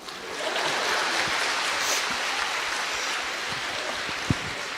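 Steady audience applause at a Brahmakumaris motivational speech event, a sustained wash of clapping from a crowd that holds at an even level for several seconds.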